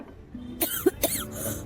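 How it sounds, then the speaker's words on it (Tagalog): A person coughs during a Filipino radio drama in a home setting: several sharp, close coughs in quick succession, with a throat-clearing rasp between them, heard clearly over a quiet background. "Hanggang ngayon, inuubo ka pa rin?"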